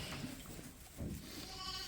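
Sheep bleat faintly on a working sheep farm, one or two wavering calls rising over a soft background hum.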